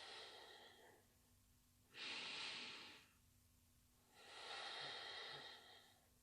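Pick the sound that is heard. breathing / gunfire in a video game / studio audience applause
breathing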